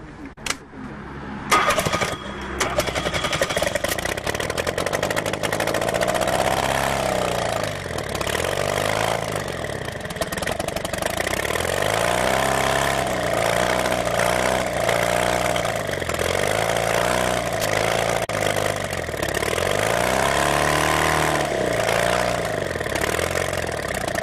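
An experimental Bourke engine cranks and catches after a few sharp bangs, then runs on loudly and steadily, rising and falling in a series of repeated revs as the throttle is worked.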